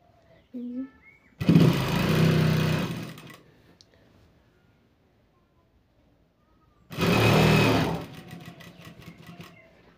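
A sewing machine stitches the hem of a long khimar in two separate bursts of about two and one and a half seconds, close and steady, with quiet gaps between them and brief faint sounds before the first run.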